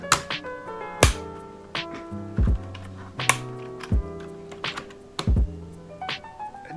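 Plastic keycaps being pried off a Velocifire TKL02WS wireless keyboard with a key puller, heard as a series of sharp close clicks and clacks at irregular intervals, with no talking.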